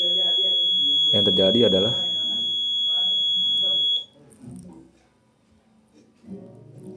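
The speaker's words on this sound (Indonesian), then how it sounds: "buzzer akan menyala yang menandakan bahwa tanah pada tersebut adalah kering" A buzzer on a soil moisture sensor circuit signalling dry soil gives a steady, piercing high tone for about four seconds and then cuts off, while a person speaks over it and afterwards.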